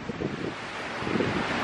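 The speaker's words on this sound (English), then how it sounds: "Here we are at the windy section." Strong wind at a ski lift at Eldora, roaring as loud, steady buffeting gusts against the microphone with no voices.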